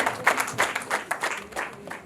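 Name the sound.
applause at a wedding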